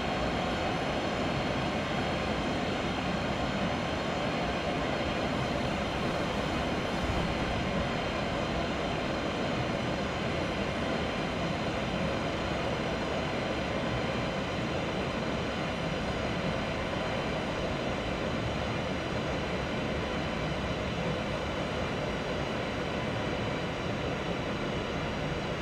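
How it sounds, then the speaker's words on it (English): ICE 3 high-speed train braking in Train Simulator 2016 on the Mannheim to Karlsruhe line, a steady loud rolling drone with broad rushing noise that holds almost unchanged throughout, no voices. "the train is now starting to brake for the speed limit"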